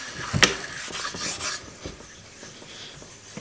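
A nagura stone rubs across a whetstone during knife sharpening: a sharp scrape near the start, then softer gritty strokes that fade, close and fairly quiet.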